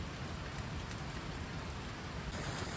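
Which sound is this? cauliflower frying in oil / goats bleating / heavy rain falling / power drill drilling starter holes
heavy rain falling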